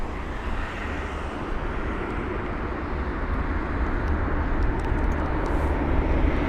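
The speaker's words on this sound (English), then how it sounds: "And the Emirates 380 is finally departing." An Emirates Airbus A380 departs London Heathrow, a broad, steady jet-engine roar that swells gradually as it builds power, heard from a distance with no talking.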